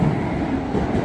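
A Shinkansen bullet train in Tokyo, Japan rushes past close by with a steady, loud rumbling roar that fills the short moment.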